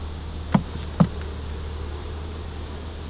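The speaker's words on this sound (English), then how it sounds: "Bees coming out here." A steady honey bee buzz hums close by around hive frames, broken by two sharp knocks early on; no speech.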